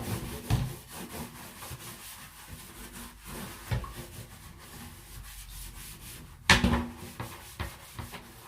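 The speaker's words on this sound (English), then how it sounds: "I'm using the bath water from Kenzie's bath to scrub everything" Scrubbing storage boxes clean with leftover bath water: soft, uneven rubbing and brushing strokes against plastic. A few louder knocks and scrapes stand out, and there is no talking.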